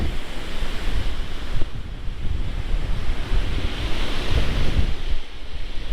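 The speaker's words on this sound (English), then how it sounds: "The seas are kind of rough because Hurricane Lee is passing offshore." Rough sea waves crash and wash along the Swampscott/Lynn waterfront as Hurricane Lee passes offshore, a loud surging roar heavily buffeted by wind gusts hitting the microphone, with no talking.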